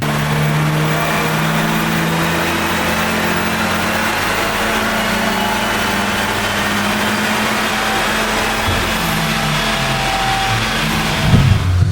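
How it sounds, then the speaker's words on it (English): VW Golf MK8 GTI engine, tuned, with overrun activated, held at a loud, steady high-rev drone that continues throughout, with a brief burst of crackle near the end. "I've also activated overrun. Sounds good, doesn't it?"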